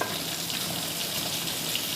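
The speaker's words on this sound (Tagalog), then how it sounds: "dudulog ko na yung isda para parang prito siya" Fish frying in a pan: steady, dense sizzling and crackling, close and continuous with no talking.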